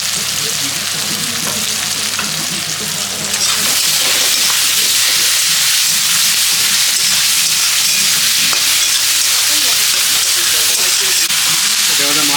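Vegetables with chilli and tomato sizzle and fry steadily in a pan, making a continuous loud hiss with faint stirring scrapes, before fresh mola fish is added.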